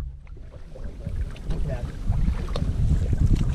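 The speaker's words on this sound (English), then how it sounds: "So we're rowing." Oars splash and knock in a steady rhythm on open water, with gusty wind rumbling across the microphone.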